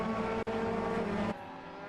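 A silhouette-class race car at Snetterton circuit roars past with a loud, steady engine note that breaks briefly, then drops away abruptly as the car moves on.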